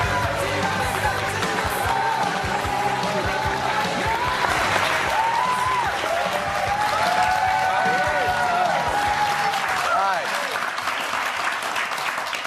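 A studio audience applauds a comedian on a morning TV show, with dense clapping and crowd noise throughout and people talking over it.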